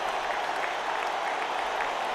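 Applause in the video game Radiant Tale after a performance, a dense, steady clapping of a crowd sustained throughout at moderate loudness with no break.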